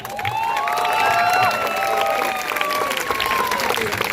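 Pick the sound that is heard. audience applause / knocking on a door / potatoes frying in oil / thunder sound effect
audience applause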